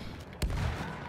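A single loud gunfire burst from a Battlefield 1 match, a sharp crack at once with a rumbling tail that decays over about half a second, heard up close.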